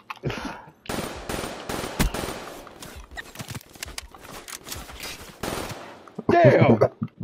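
Gunfire in a video game shooter: close, sharp shots in quick bursts and rapid strings, broken by short pauses, then a person talks at the end.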